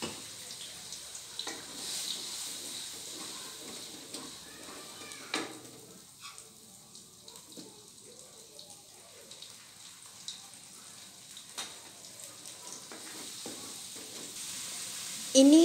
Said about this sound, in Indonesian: Sekarang aku mulai tumis bumbunya ya teman-teman.